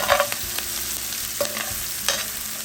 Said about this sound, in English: I am going to get my spoon and stir this around